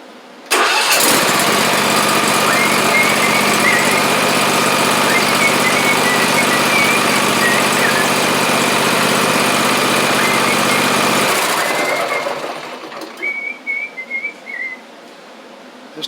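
A John Deere S120 lawn tractor engine cranks and starts, then runs at a loud, steady, close idle with a whining tone for about ten seconds before shutting off, leaving faint ticking and whistling.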